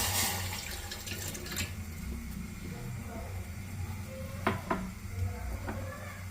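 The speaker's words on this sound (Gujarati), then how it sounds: "આપણે જે લોટ લીધો હોય એનું અડધું પાણી નાખી દેવાનું।" Water pours steadily into a pot with a soft, continuous splashing, and a few light metallic clinks near the end.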